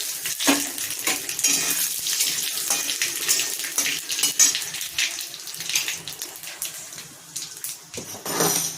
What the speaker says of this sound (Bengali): এখন আমি ফোড়ন দিয়ে দেবো।